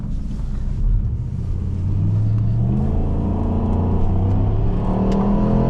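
A 2008 Pontiac Grand Prix GXP with an LS V8 accelerating, its engine rising as a loud, steady low drone heard from inside the car, with wind and road rush layered over it.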